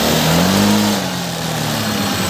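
A Honda ADV 150 scooter engine, just fitted with a new throttle position sensor, revs up close and loud, then settles back toward a steady idle, with no talk over it.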